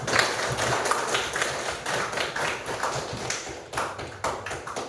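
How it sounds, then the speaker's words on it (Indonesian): A school classroom gives a student a round of applause. Many hands clap in dense, fairly loud, sustained rapid patter, close by and continuous with slight swells. No one talks over it. "kasih aplaus buat Safa"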